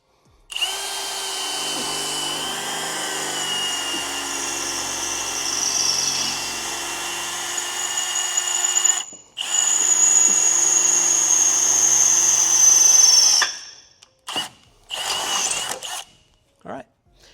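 A power drill whines steadily as it bores into a steel Jeep JL frame for rock slider mounts, the pitch rising under load, pausing briefly, then resuming before short final bursts.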